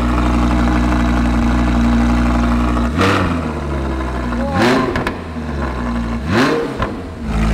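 An Audi R8 fitted with a new exhaust idles with a deep steady drone, then gets three sharp revs that rise and fall, each loud and close, with a voice briefly audible between them.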